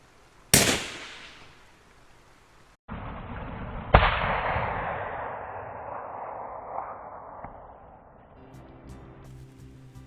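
A hunting rifle fires uphill during a summer overnight hunt in the Ruahines: a sharp, loud report with a trailing decay, followed by further abrupt cracks and rumbling echoes fading away.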